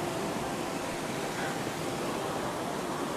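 Water rushes in a stream or waterfall on a mountain trek, a steady, fairly soft wash of noise that continues evenly throughout with no distinct events.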